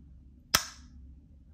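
Single sharp snap of an AirPods 3 charging case clicking shut, close and crisp, with a brief fading tail against near silence.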